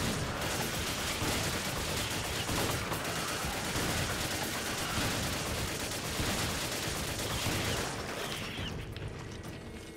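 Continuous gunfire in the video game Resident Evil 5, a dense, loud barrage of rapid shots and bursts layered over one another for nearly ten seconds, tapering slightly at the end.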